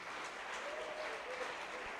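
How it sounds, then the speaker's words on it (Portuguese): A church congregation applauds in praise for the adolescents' ministry, the clapping a soft, dense wash heard from some distance, steady and unbroken for a couple of seconds. "Aplauda o Senhor pelo ministério como adolescentes dessa igreja."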